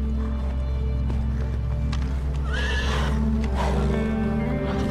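Horses carrying mounted soldiers whinny and neigh close by in a film scene, with hoof movement over a steady low background hum.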